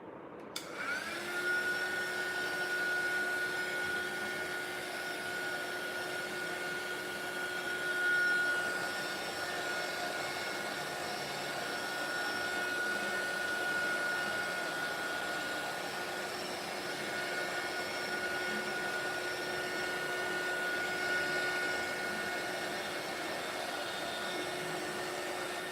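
A hair dryer blows steadily to dry paint on a steampunk-style craft tag, a loud continuous whirring hum with a faint whine that starts abruptly and runs unbroken for nearly half a minute, no talking over it.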